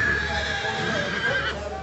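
A high-priced racehorse at a yearling sale on Australia's Gold Coast gives a loud, drawn-out whinny with wavering tones. It carries over crowd noise and background speech.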